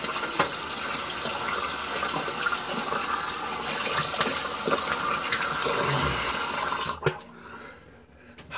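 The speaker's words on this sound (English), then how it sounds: "Rinse it off." Running water rinses peppermint shaving cream away, a steady close gush of tap water that stops abruptly near the end, with faint handling noises.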